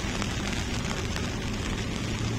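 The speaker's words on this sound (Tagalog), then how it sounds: "hindi to ulan kundi ambon, ulanbon mga bayan." Light drizzle falls steadily at an esplanade construction site at night, a dense, even hiss of fine rain on surfaces with no voices.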